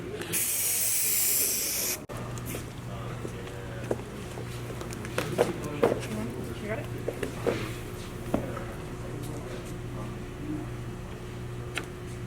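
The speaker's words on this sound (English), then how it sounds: "Some of the wood slats had come loose, so we're putting on some spray adhesive and gluing them back into the bed." Spray adhesive hissing from a can onto loose wood slats in a pedal car bed, a loud close burst lasting about two seconds, followed by quieter handling clicks.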